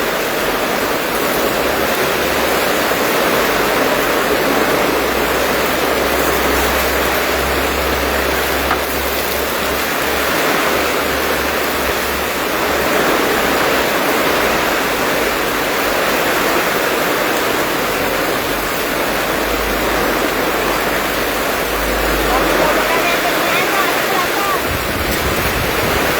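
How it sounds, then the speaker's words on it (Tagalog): Heavy rain roars in a continuous, dense wash of noise, loud and unbroken throughout, with faint voices now and then beneath it. "Malakas pa ulan."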